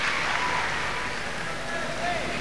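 Dense, steady applause from a crowd after a men's gymnastics floor routine at the 1998 Commonwealth Games, holding as a continuous wash of clapping with a faint commentator's voice underneath.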